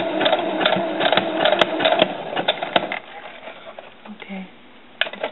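A sewing machine stitches curled fishing line in quick, uneven bursts of mechanical clatter, pausing and restarting, close and moderately loud with a few brief clicks.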